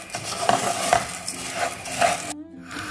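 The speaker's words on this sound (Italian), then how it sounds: "Lo lascio tostare a fuoco medio per un paio di minuti." Rice toasts over medium heat in a risotto pot while a utensil stirs it, giving repeated scraping and clinking strokes over a steady faint sizzle, close and fairly loud.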